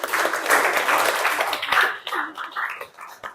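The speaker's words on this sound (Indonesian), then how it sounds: "Beri tepuk tangan untuk Alda, teman-teman." Classmates clap for a student in an Indonesian teacher-training classroom lesson, a short burst of moderate applause that thins out and fades over a few seconds.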